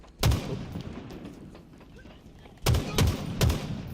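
Bandit rifle shots in Halo Infinite multiplayer: one loud, sharp report, a pause of over two seconds, then three quick shots in a steady rhythm, each with a booming low tail.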